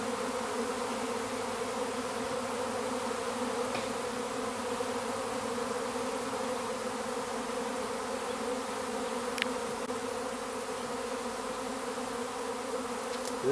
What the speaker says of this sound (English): The cluster of bees out here is getting smaller and smaller in diameter, and they're bearding.